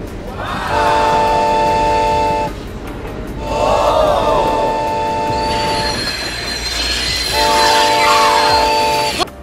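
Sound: LEGO high-speed train motor running on track up slope

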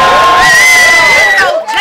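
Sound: crowd cheering at a rap battle

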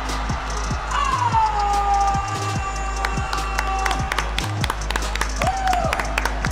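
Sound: applause for the new champion

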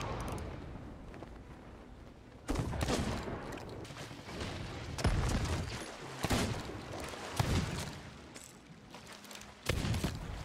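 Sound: cannon fire in a pirate ship video game

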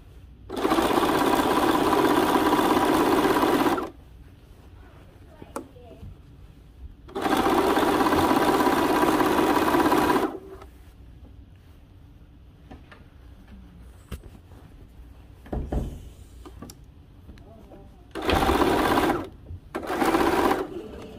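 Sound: sewing machine stitching a dress seam

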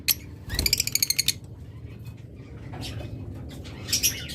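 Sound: pair of farm-bred pet birds chirping

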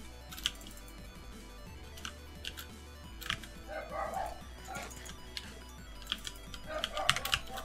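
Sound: dog barking

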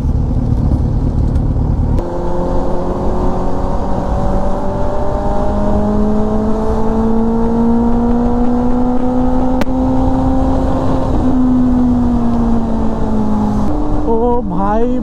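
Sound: Kawasaki Z900 motorcycle exhaust while riding

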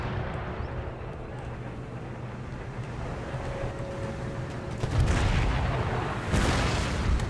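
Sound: howitzer artillery fire in the video game Empire: Total War

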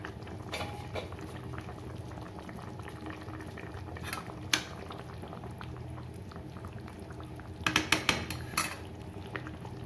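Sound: rohu fish curry gravy boiling in pan

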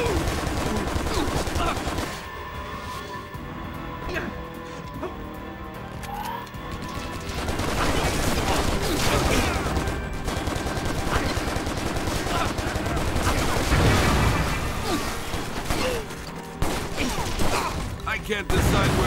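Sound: gunfire in Stranglehold video game

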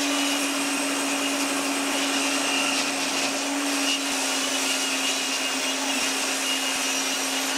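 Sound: saw cutting beech wood strips

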